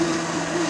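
Electric blender running steadily while flour is added to pancake batter, a close, continuous motor whine with a sustained hum and no breaks over a brief moment.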